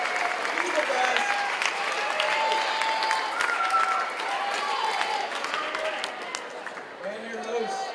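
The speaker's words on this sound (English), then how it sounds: "Round of applause for him." A school crowd at a 2015 talent show quiz bowl applauds a teacher, steady clapping lasting several seconds and fading toward the end, with some voices mixed in.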